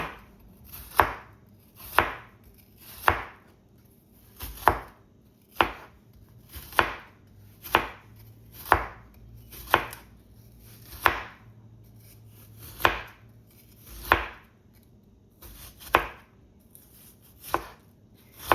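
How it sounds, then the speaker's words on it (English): Onion is chopped on a board in steady, evenly paced knife strikes, about one a second, close and crisp with nothing else heard. "we're going to cut up the seasoning then. So I'm going to go in with some onion."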